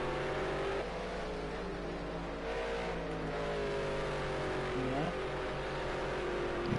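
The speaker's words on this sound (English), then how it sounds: "these cars are quite loud" Race car engines in a racing video game at Watkins Glen roar and rev in a steady, loud drone with shifting pitch, while people talk underneath.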